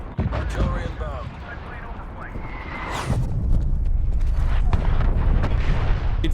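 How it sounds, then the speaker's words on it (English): Artillery strikes pound down in a Call of Duty match, with booming blasts and rumbling debris that build into a dense, loud barrage while a voice talks over the top. "Artillery inbound."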